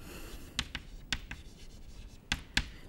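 Pen or chalk scratching out a math note during a topology lecture, several short, quiet strokes and taps in an irregular rhythm with no talking.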